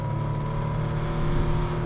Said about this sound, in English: when I try to rev my car out